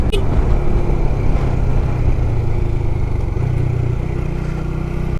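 Motorcycle engine revving high, around six and a half thousand rpm, while descending a steep mountain road with a heavy pillion passenger; a steady, loud, continuous drone with wind rush throughout.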